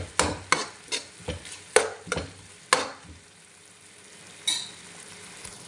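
Onion stir-fried in a pan for pancit canton, a run of sharp, close scrapes and knocks of a spatula against the pan over a low sizzle, thinning out to a single scrape later on.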